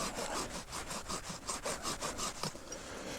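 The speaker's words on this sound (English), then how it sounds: "I'm going to put a couple of notches in this" A hand saw cuts notches into wood, giving a close, steady series of rhythmic rasping strokes, roughly three or four per second, with no talk over them.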